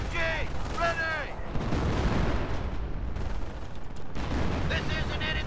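Machine-gun fire and gunshots rattle through a Company of Heroes co-op battle at a manor under heavy attack. The bursts are dense and continuous over rumbling booms, with game voices speaking over the fighting.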